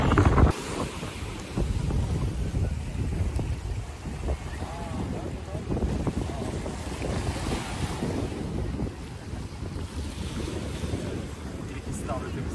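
Steady wind gusts roar across the microphone while waves slosh against a fishing boat at sea in stormy weather, continuous and close throughout.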